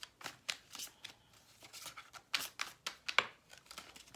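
Tarot cards being shuffled by hand, a quick run of soft riffling swishes and papery flicks with sharper snaps between, close and fairly quiet, no voices.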